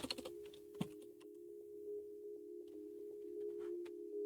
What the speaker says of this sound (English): I will type it back in